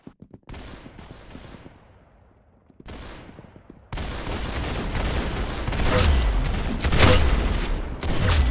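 Gunfire in the Roblox game Arsenal, starting with a few separate shots and ringing tails, then breaking into a dense, continuous barrage of rapid fire and booms that stays loud to the end.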